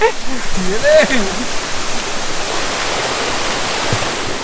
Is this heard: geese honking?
no